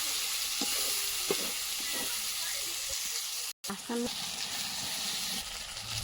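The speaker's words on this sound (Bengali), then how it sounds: "টমেটো দিয়ে ভালো করে এটাকে নেড়ে মিক্সিং করে নেবে" Steady sizzle of tomatoes frying in a pan for a village-style meat dish, with scraping spatula strokes stirring now and then and a brief cut in the middle.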